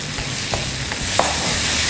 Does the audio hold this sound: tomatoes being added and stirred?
yes